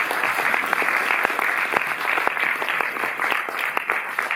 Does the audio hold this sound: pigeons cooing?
no